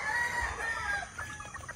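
Pullets at a large bird farm in the Philippines cluck in a steady, close chorus, with soft overlapping calls continuing throughout the short stretch.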